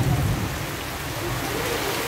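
Heavy rain pours steadily over a village during a strong storm, a dense continuous hiss of falling water with a low rumble at the start, heard alone with no talking.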